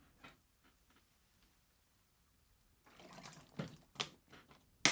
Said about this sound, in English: There's my water bottle if you can hear.